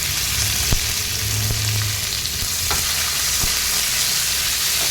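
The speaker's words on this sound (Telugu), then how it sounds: "తర్వాత అందులోనే మనం మీ దగ్గర తీసుకున్న ఆనియన్స్ వేసుకోవాలి తర్వాత మంచిగా కలుపుకోవాలి" Cashews and onions fry in a hot pan with a dense, constant sizzle, and a spoon scrapes and taps now and then as they are stirred together.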